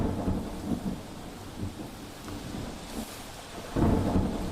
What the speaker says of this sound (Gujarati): ડાંગ જિલ્લામાં વરસાદનો કહેર છે